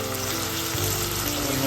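Onions sautéing in hot oil with ginger, green chili and curry leaves for okra mappas, a steady close sizzle and crackle throughout with no voices.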